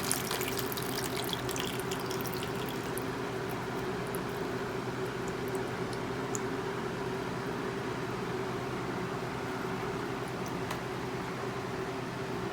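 Water poured over a potted Dendrobium wilsonii orchid: a steady, continuous splashing stream lasting throughout, close and even, with no talking.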